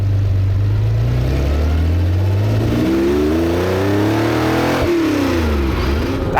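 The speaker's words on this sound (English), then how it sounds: "That was a first gear, foot flat pull." A 1977 Ferrari 512 BB pulls hard through first gear at full throttle, its engine note climbing steeply in a loud, close rising howl, dipping briefly at the shift point near the end before surging again.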